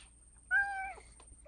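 A pet cat gives one short, clear meow at close range against a quiet indoor background.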